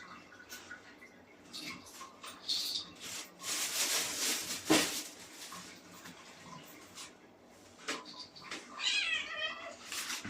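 A cat meows repeatedly and grumbles in laundry water, with splashing and rubbing sounds between the cries, close and fairly loud.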